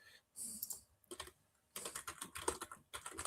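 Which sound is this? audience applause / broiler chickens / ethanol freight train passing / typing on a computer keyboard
typing on a computer keyboard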